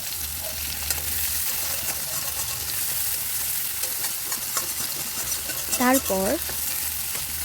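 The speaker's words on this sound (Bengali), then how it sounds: "কড়াইটা দুখান তেলেতে পাঁচফোড়ন, পেঁয়াজ আর শুকনো লঙ্কা ফোড়ন দেওয়া দিন" Panch phoron, onion and dry chilli fry in oil in a pan with a continuous close sizzle and occasional stirring scrapes; a voice briefly speaks near the end.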